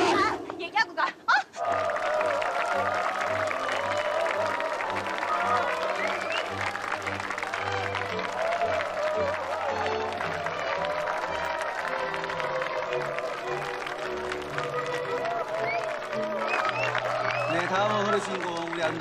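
Wedding guests applauding the groom's entrance at a wedding ceremony: loud, sustained clapping from a crowd with chatter and music underneath, starting right after a few abrupt bangs.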